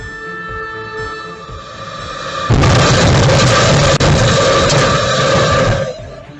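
A loud train roars past at close range with heavy rumbling and a sharp impact as a speeding train slams into the rear of a vehicle at a railway crossing, then the noise fades as it moves away.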